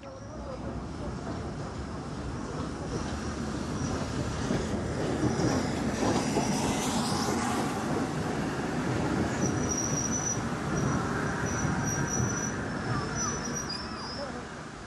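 LNER steam locomotive Flying Scotsman hauls the Valentine Express special, a loud continuous rumble of the train with occasional high wheel squeal building through the middle, while a voice speaks at times over it.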